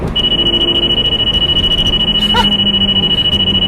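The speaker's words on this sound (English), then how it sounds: "Got a Valentine 1 radar detector." A Valentine 1 radar detector alerts inside an old car with a steady high-pitched tone that holds for several seconds, plus a short chirp near the end, over constant road and engine rumble.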